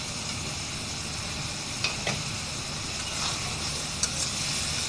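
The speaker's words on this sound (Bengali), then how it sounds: "ভাজা ট্যাংরা মাছগুলো দিয়ে দিব" Fried tangra fish go into a pan of sautéed potatoes, producing a steady, even sizzle with a few faint clinks and stirs scattered through.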